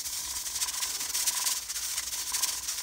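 A pressure cooker's weight jiggles and hisses on the stove, a steady, moderately quiet steam hiss with a faint fluttering rattle running through it.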